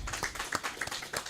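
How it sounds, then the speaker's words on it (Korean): A church congregation claps during a worship service, a few quick, faint hand claps sounding in a loose, brief burst. "영광의 박수 우리 한번"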